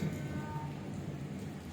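Steady heavy rain pours outside a balcony, a dense, even hiss of falling water that fills the whole stretch without pause.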